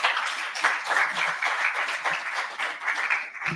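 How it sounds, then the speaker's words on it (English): Audience applauding visiting ambassadors from Germany, Spain and Belgium at a ceremony, a steady dense wash of clapping that carries on through the whole stretch without pause. "Give them a round of applause, please"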